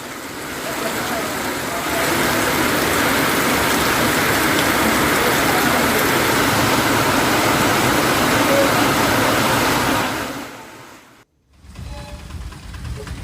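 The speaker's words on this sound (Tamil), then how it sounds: "1 மணி நேரத்திற்கும் மேலாக கனமழை பெய்தது" Heavy rain pours steadily in Cuddalore district, a dense, loud broadband hiss that holds for about ten seconds before cutting off abruptly, followed by a quieter stretch.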